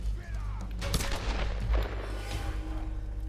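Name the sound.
gunfire in Tomb Raider video game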